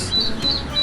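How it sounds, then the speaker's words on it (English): An avocet call: a few brief, high chirping notes repeated at an even pace, close and clear, with no voices. "A is for Avocet."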